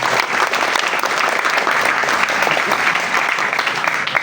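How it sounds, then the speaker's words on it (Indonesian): Sustained applause from a large audience at a gathering for a university rector in Indonesia, dense and loud clapping that holds evenly throughout without a break. "Tepuk tangan untuk beliau."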